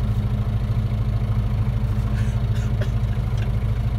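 Tractor engine idling, a steady low, throbbing mechanical drone with a faint clatter on top, close and continuous, and nobody speaking.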